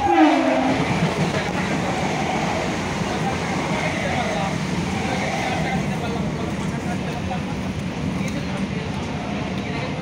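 A moving train carriage on a Kolkata suburban line near Bagbajar keeps up a steady rattling rumble with faint rhythmic clatter, and a brief voice can be heard at the start.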